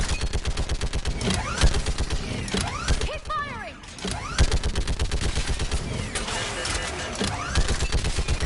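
Sustained rapid gunfire and mechanical clatter in the Mass Effect Legendary Edition video game, loud and continuous with rhythmic bursts, a brief lull midway, and voices briefly mixed in.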